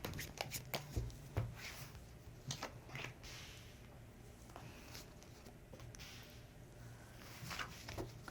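Tarot cards being shuffled by hand in a quiet room, with crisp riffling flutters and soft slaps in brief bursts, busier at the start and end and calmer through the middle, and no voices.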